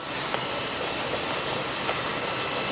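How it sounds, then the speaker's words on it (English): Heat gun blowing hot air while sealing an internal corner with a neoprene roller; a steady, loud, close broadband hiss runs unbroken throughout, with no talk. "you then use the heat gun and the neoprene roller"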